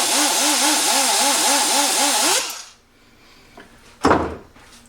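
Porting tool grinding into the valve throat of a cast iron big-block Chevy cylinder head, a loud, steady rotary whine with a rhythmic pulsing chatter for over two seconds, then it stops, followed by a brief faint clunk and a sharp rattle.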